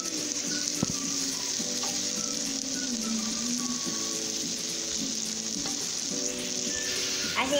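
Bacon, calabresa sausage and garlic sizzle and crackle steadily in a pan, a continuous close frying hiss with a few faint stirring scrapes and no talking.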